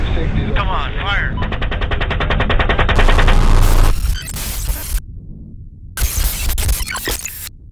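Dense, heavy machine gun fire in a satirical documentary scene, a rapid continuous rattle of shots layered with loud booming and distorted noise, with abrupt cuts and a brief drop before the firing resumes.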